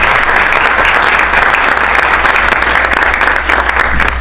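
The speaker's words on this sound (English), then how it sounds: "Would you give her a big round of applause as she makes her way?" Loud, dense audience applause from a crowd at a magic and misdirection show, sustained clapping that holds steady throughout with no break.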